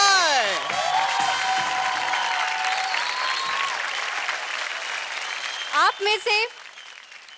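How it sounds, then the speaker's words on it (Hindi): A studio audience at a televised dance competition breaks into loud sustained applause for the week's top dancing star, while a host's voice talks over the clapping and it tapers near the end. "जोरदार तालियां हो जाए"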